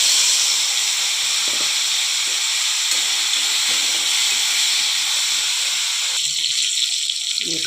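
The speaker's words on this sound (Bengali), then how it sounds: "এখন কাঁচা কলাটা ভেজে নেব।" Raw plantain fries in hot oil in a kitchen pan, a loud steady sizzling hiss that runs throughout, close and continuous.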